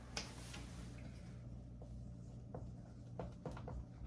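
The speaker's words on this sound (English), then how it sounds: "I'll write that on the board for you." Marker or chalk writing on a classroom board, faint scratchy strokes and taps in short irregular bursts against a quiet room hum.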